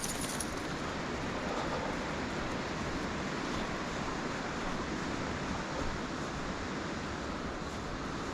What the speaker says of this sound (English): But you can hear the river to my left here.